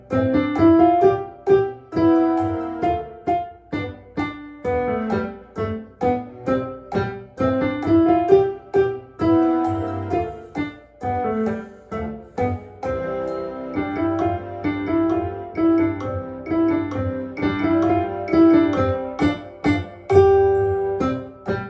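A piano piece played with MIDI accompaniment, steady melodic notes over a full backing and busy eighth-note patterns, carrying on continuously at a moderate level with no voices.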